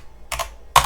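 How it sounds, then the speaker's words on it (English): Two short bursts of keystrokes on a computer keyboard while a router hostname is entered, quick clustered clicks, close and clear, with no talk. "my typing today is terrible"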